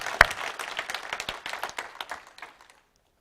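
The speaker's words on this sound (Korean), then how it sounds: "우리 수고하신 모든 분들 격려의 박수 한번 올려드리겠습니다." A congregation at a Christmas Sunday church service gives encouraging applause, with distinct claps from a modest crowd, one sharp clap standing out early, thinning out and fading to silence after a couple of seconds.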